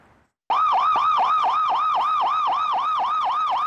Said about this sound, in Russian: Антон Вичкан за рулем скорой помощи около года